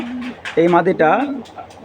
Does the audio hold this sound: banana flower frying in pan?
no